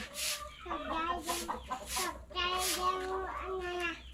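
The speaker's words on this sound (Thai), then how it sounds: "อย่าให้ไก่มันเข้ามาในนี้" Chickens on a farm clucking and calling in repeated bursts, close and fairly loud, with a person speaking faintly in the background.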